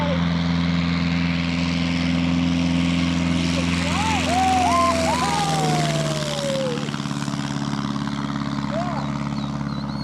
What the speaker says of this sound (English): My airplane's in the air.